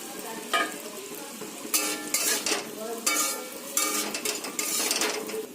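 Fried okra tipped into cooked ginger-spice masala in a pan: a low sizzle under several loud bursts of scraping and clattering as the pieces are stirred and tossed, with no talking.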